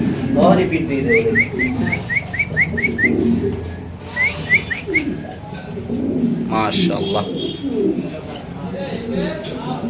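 Repeated soft cooing and fluttery calls of fancy pigeons, including Mundian pigeons, sound close by, with a voice speaking briefly over them.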